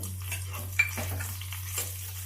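Garlic cloves and dried red chillies stir-frying in a pan with peanuts, giving a steady low sizzle broken by a few scraping spoon and utensil clinks, close and continuous with no talk.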